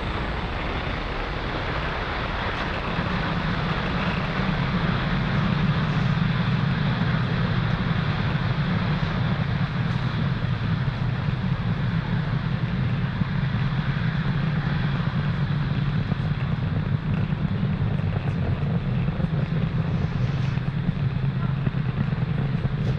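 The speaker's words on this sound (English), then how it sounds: "Falcon 9 has successfully lifted off from pad 40" Falcon 9 rocket engines during launch ascent from pad 40, a steady broadband roar with a deep low rumble that holds at constant loudness throughout, distant and unbroken, with no voices over it.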